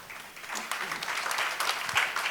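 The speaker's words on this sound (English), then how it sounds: "You got the applause anyway." Audience applause at a literary festival session, moderate scattered clapping from a seated crowd throughout, fairly even and sustained with no clear voices.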